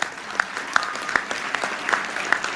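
Audience applause at a stand-up comedy show, a steady wash of many hands with sharper individual claps standing out at a regular pace, fairly close and continuous with no voices over it.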